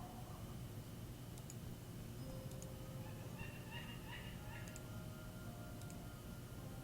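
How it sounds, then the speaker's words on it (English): A cat meows in Gibbous, a Cthulhu adventure game, with a few short calls rising midway over a steady bed of game ambience. "Wait, now I'm a cat."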